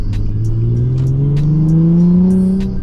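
Nissan 350Z engine revving hard on a downshift into second gear, a loud steady mid-pitched engine note climbing in pitch, close and continuous throughout with no talk.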